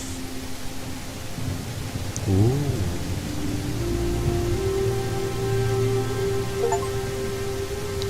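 Rain in the video game Stone Simulator falls as a steady hiss of noise with faint tonal game sounds beneath it, constant and moderately loud throughout.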